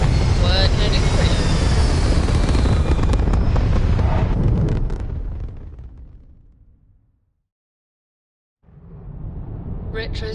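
Retro thrusters on a spaceship in Starfield fire with a loud, broad roaring blast that fades out over several seconds. After a brief silence a fresh roar swells back in.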